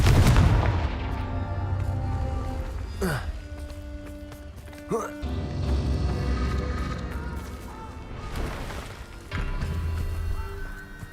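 Confringo blasting spells cast in the video game Hogwarts Legacy, several booming magical blasts and whooshes bursting out one after another over a continuous game soundtrack.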